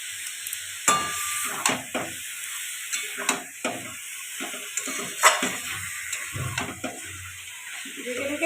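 Meat stirred in a pan for a home-style meat curry, with repeated scraping and stirring bursts over a soft steady sizzle; nothing is spoken.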